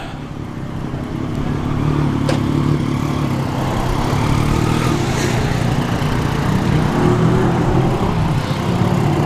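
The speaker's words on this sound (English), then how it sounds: "Noisy motorbikes." Loud, rough motorbike engines roar steadily nearby, a continuous rumbling drone with no voices.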